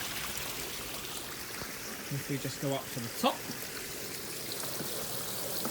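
Water spills steadily from the spillway of a homemade budget pond filter, a continuous broadband rush and trickle heard throughout while someone briefly talks over it.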